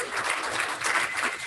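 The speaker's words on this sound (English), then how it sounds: "Let's give him a round of applause." Audience applause at a live event in Henderson, Nevada, a steady, dense wash of clapping that holds evenly throughout without voices on top.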